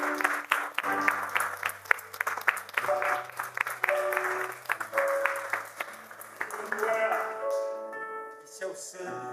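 A church congregation at a communion service claps along in steady rhythm while organ or keyboard chords and singing ring out, the clapping mixed under the music and gradually thinning toward the end.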